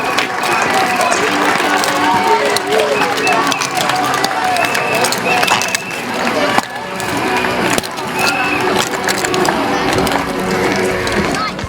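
A speedway crowd claps and cheers loudly and continuously as the Isle of Wight Wightlink Warriors team is welcomed to the track, a dense roar of applause with voices mixed through it and a brief dip partway.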